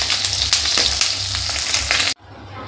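Fish fries in hot oil with a loud, close, crackling sizzle and small pops, cutting off abruptly after about two seconds.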